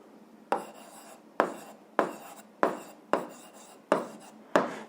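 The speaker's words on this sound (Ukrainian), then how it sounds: "Ну що ж, записуємо відповідь, пишемо відповідь" A pen writes an answer for a physics exercise in repeated short strokes, seven scratchy bursts each starting with a sharp tap and trailing off, spaced evenly and heard close with nothing else around.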